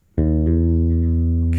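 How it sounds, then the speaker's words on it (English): Sustained bass guitar note with rich harmonics, a minor third slipping up into a major third, the pitch shifting once early on and then ringing steadily, loud and alone. "the minor third slipping into the major third, which sounds like this."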